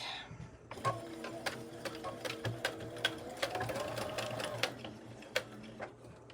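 A sewing machine stitching across the button placket of a shirt being made into pajama pants, a steady close mechanical whir with rapid ticking needle strokes that slow and labor a little over the thick fabric.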